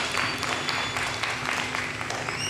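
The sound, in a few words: applause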